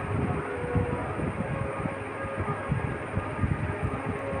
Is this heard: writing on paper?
no